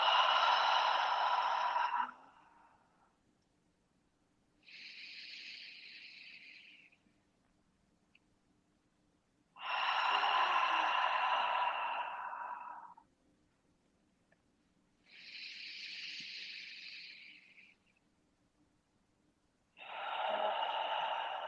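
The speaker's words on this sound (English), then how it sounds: "let's start here with 3 really deep breaths in through the nose," Deep breaths during a yoga class are heard up close: slow inhales through the nose alternate with long, breathy exhales through the mouth, about three cycles with brief pauses between, with no talking.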